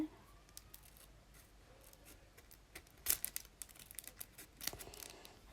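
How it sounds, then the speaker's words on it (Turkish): Football trading card pack being torn open, with soft crinkling and tearing of the wrapper, a sharper burst of ripping partway through and more crackling near the end, close and moderately quiet. "Neyse şu son kartı da açalım."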